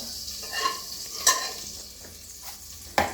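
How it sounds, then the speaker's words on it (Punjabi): Cumin seeds sizzle in hot desi ghee for a bottle gourd dish, a soft continuous frying hiss broken by a few sharp clinks of a spoon on the pan. "ਇਹ ਦੇਖੋ ਜੀ ਆਪਾਂ ਨੇ ਇਹ ਘਿਓ ਪਾ ਲਿਆ ਤੇ ਵਿੱਚ ਆਪਾਂ ਪਾ ਲਾਂਗੇ ਥੋੜਾ ਜਿਹਾ ਜੀਰਾ"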